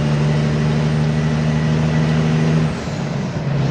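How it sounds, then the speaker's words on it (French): A truck with a newly fitted engine running steadily close by, a loud constant drone with a tonal turbo whine that cuts out near the end and then returns softer. No voices. "J'entends un petit peu moins mon turbo qu'avant."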